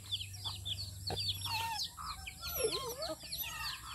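Chickens and a rooster cluck and squawk close by during feeding, with scattered calls rising and falling over a low hum.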